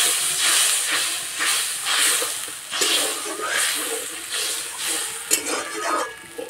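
Water added to hot cooked-down masala for an egg curry, a loud surging hiss and steamy bubbling in pulsing waves, with a sharp metallic clink near the end.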